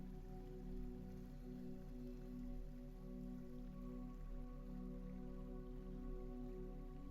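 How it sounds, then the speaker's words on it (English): Steady rain patters against a window in an even, unbroken wash, soft and constant, with no voices. "The rain softens again, less against the window now, more like a steady presence around everything."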